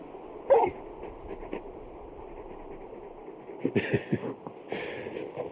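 Whimpers and yips from a big dog in the Final Fantasy 16 video game, one sharp yelp early on and then a cluster of whiny sounds and soft barks near the end, heard close with no speech.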